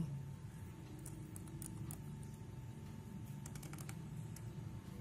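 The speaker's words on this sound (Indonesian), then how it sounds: "passwordnya saya ketik di sini" Soft, scattered key clicks from a password being typed on a laptop keyboard, faint and close against a steady background hum, with no talking.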